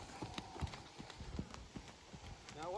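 Horse trotting out slowly and sluggishly on the ground, a series of soft hoof clip-clops at a steady rhythm, fairly faint against background noise.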